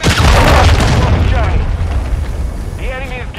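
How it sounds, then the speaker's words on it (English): A cruise missile explodes in Call of Duty Modern Warfare II, starting with a loud, close, deep boom that rolls into a long rumbling decay. A short radio-style voice comes in near the end. "Friendly cruise missile deployed."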